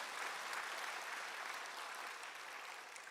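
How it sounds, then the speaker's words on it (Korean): Congregation applauding a church choir after a hymn, a steady wash of many hands clapping that fills the whole stretch and eases off slightly toward the end, with no voices over it. "우리 갈릴리 찬양대 하나님께 큰 영광의 박수 올려드립니다"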